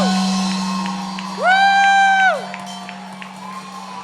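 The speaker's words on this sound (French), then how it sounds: "est-ce qu'on peut acclamer plus fort, plus fort, plus fort?" Loud crowd of women at an evening distinction ceremony cheering and whooping in acclaim, a swelling burst of shouts near the middle over steady hum.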